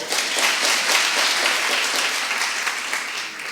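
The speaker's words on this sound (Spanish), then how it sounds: "este aplauso para vosotros" Dense, steady applause from an audience at a talk fills three and a half seconds, a close, even roar of many hands clapping at once without pauses or voices.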